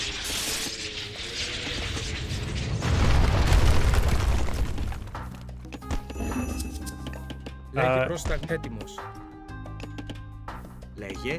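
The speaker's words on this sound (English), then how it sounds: "It's going to explode big." A large explosion in the Age of Mythology video game, a loud rumbling boom swelling in the middle and then fading into scattered game effects and clinks, with a voice talking throughout.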